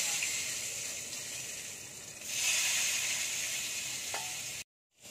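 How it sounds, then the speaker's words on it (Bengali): Small local brinjals, rubbed with salt and turmeric, fry in hot oil with a steady, close, dense sizzle that swells midway and cuts off abruptly near the end; no talking. "এবার বেগুনগুলো ভেজে নেব।"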